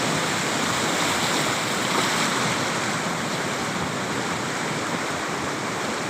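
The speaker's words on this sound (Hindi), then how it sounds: "ये भी सैलाब का पानी है खतरनाक पानी है" Dangerous floodwater rushing past a bridge during flooding in Naseerabad, Balochistan, a loud, steady, broadband roar with no break, heard alone and close.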